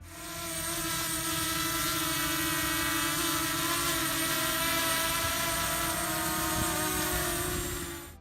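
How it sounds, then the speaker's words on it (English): Drone fitted with quiet toroidal propellers hovering close by, a steady, smooth motor and rotor hum with a tonal whine that holds evenly throughout, alone without voices. "a drone running these props makes a level of sound roughly as annoying as a regular drone about twice"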